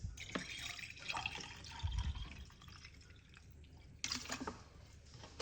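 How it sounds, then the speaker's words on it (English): Water poured into a cup holding about a teaspoon of cloves in a kitchen, heard as close, intermittent splashing and trickling bursts with no talking. "And then we put some water in it."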